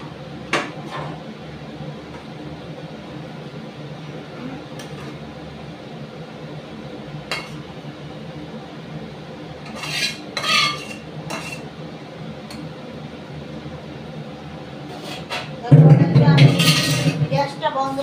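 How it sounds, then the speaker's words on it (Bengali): A cauliflower, potato, pea and tomato curry is stirred in a metal kadai, with a spatula scraping and clinking against the pan and a plate being handled. Quiet background hum and sparse clatter build to a louder burst of scraping near the end. "এবার আমি নেড়ে ফুলকপিটাকে নামিয়ে দেবো"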